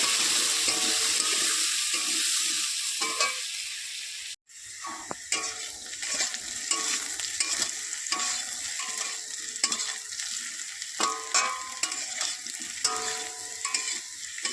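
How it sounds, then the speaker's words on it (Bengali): Potato pieces frying with salt and turmeric crackle and sizzle loudly and steadily, with a brief drop to quiet, then frequent scraping stirs and clicks of a spatula against the pan. "আলুটাকে ভালো করে ভেজে নেব।"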